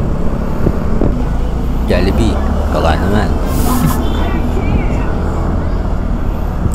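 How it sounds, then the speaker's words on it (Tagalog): Street traffic rumbles steadily around a Mio Gear 125 scooter on a ride heading south, with car and engine noise running throughout under close, continuous talking and a few brief higher tones. "Traffic dito talaga sir."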